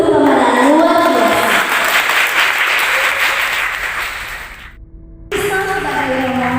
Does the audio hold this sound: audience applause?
yes